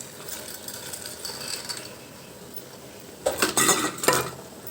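Field beans being stirred into a potato and tomato curry in a metal pot, with light scraping and clinking of a spoon against the pot, growing louder and busier toward the end.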